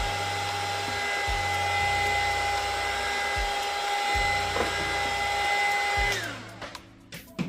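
Hair dryer blowing hot air onto an Arrma Senton 4x4 RC car body, a loud steady whirring hum with a high whine that shifts slightly as it is moved, then switched off near the end.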